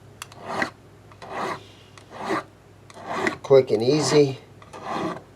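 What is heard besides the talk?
swiping frets of Epiphone GT guitar fretboard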